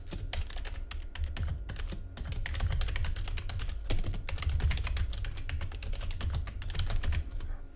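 Fast, continuous clatter of keys on a computer keyboard, typed late at night, with dense irregular clicks and a steady low background hum, no voices.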